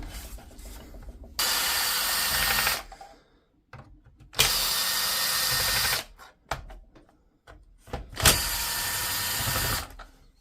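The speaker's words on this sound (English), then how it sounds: "we need to get right into it, and we need to remove these screws" Power tool bursts while removing screws from a DeWalt DCS391 cordless circular saw: three loud, steady buzzing runs of one to two seconds each, separated by quieter handling and clicks, with no talk.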